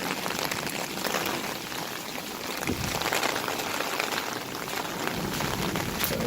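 Heavy rain pours down steadily over a backyard, a dense continuous hiss of drops striking surfaces, with no voices.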